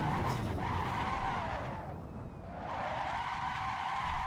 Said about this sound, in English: Big old power slide out there.